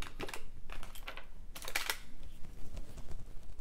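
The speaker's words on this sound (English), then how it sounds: "I'm gonna cut right in the back." Jewelry wire being snipped with cutters while making Halloween earrings, a few small sharp clicks and snaps close by, with light handling rustle and no talking.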